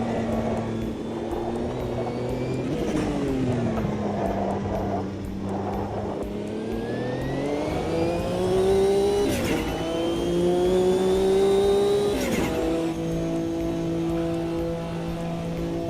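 A race car engine drones and revs in Automobilista 2, the pitch climbing and falling through gear changes with sharp shifts, close and loud with no talking.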